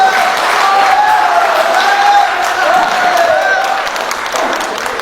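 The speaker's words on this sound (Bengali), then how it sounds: "হাততালি কোথায়? হাততালি কোথায়?" Audience applause at a school annual day program, a dense, even roar of many hands clapping that fades slightly toward the end.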